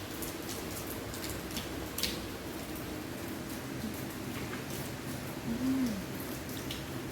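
Rain falls steadily on the way to the hills around Dalhousie, a soft continuous patter with a faint, even hiss and occasional louder drops.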